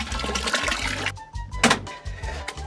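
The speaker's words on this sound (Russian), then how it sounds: "Сейчас полью воду, и она станет теплой." Water is poured from a kettle after being boiled, a close splashing gush that comes in uneven bursts with short pauses between them.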